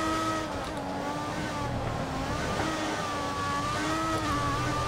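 An F1 car engine screams through a qualifying lap at Monza in the F1 2014 racing video game, a loud, continuous high-revving whine that rises and falls with gear changes, with no voices.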